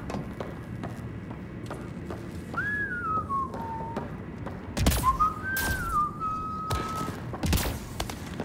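Two drawn-out whistled phrases, each sliding down in pitch, rise over a busy rumbling backdrop in Mass Effect: Andromeda, broken up by heavy thuds and impacts.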